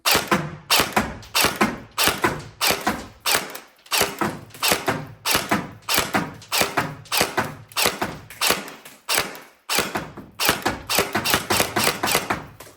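A Tokyo Marui SGR-12 airsoft shotgun fires BBs with occasional misfeeds, producing a steady stream of sharp, close mechanical clacks and thumps, roughly two or three per second, with brief gaps between bursts and no talking.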